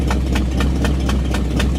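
A Buick car engine idles roughly and misfires, giving a steady low rumble broken by regular loud puffing pulses about four times a second, close and continuous.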